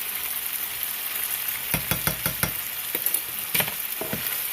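Ground beef bulgogi with sesame seeds and brown sugar sizzles steadily in a frying pan, while a utensil scrapes and stirs through it in a cluster of sharp knocks and a couple of later clacks.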